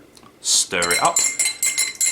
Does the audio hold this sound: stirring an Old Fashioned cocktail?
yes